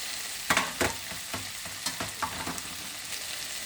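A vegetable bhaji sizzles softly in a pan while a spoon stirs it, giving several distinct scraping clacks over a low, steady frying hiss; no voices.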